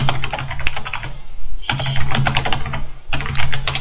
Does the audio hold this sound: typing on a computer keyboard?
yes